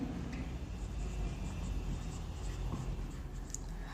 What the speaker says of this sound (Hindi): चलिए एक क्वेश्चन और लिखते हैं।